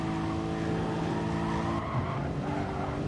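A racing car engine in a video game, on the Dragon Trail Seaside track, drones steadily at high revs, loud and continuous, with a dip and shift in pitch partway through as it lifts slightly.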